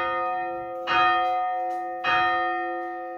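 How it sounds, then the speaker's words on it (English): Two strikes of an out-of-tune church bell hit by a chiming hammer in a parish church tower, each a bright, ringing clang with a long, slowly fading hum, about a second apart. "The second is one of the more out of tune bells"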